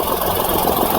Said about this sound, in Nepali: अहिले हाम्रो इन्जिन स्टार्टै छ, इन्जिन अलिकति भाइब्रेट भइरहेको छ